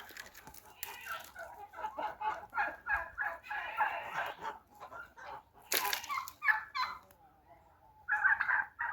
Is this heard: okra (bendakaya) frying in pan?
no